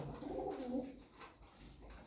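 Hünkari pigeons cooing softly nearby, a few low, rolling coos in a quiet setting with no talk.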